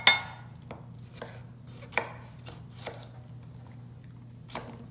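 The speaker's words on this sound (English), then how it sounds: "I'm going to take the heart and I'm going to slice it" A knife slicing through the core of a cauliflower head on a cutting board: several crisp, separate chops spaced about a second apart, close and fairly quiet over a low room hum.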